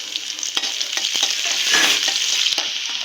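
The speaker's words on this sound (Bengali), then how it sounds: "এরপর একটু তেল দিব পেঁয়াজটা দিয়ে দিলাম" Onion frying in oil in a pan, a steady close sizzle with scattered crackles and stirring scrapes, no talking, while preparing a Bangladeshi village-chicken and egg curry.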